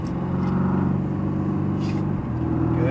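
Loud, steady engine drone from a Mercedes-AMG GT R under throttle on a track, heard from inside the cabin. The pitch holds a sustained tone with a slight climb near the end and no talking.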